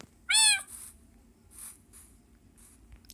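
A cat in a video game maze gives one short, bright meow near the start, followed by a few soft, faint scuffs and clicks in a quiet scene.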